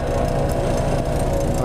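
A racing kart engine in a fuel-injection class final runs at a steady, buzzing rumble close by, loud and continuous for the whole short stretch.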